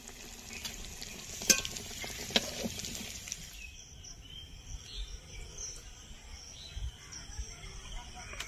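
Food frying in hot oil gives a soft, steady sizzle with a few sharp crackles early on, then settles into a quieter bubbling hiss against a faint background of chirping insects.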